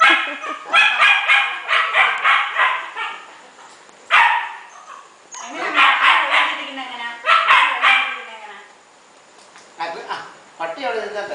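A dog barks in repeated bursts, loud and close, with short pauses between volleys and a few yips, while people talk over and between the barks.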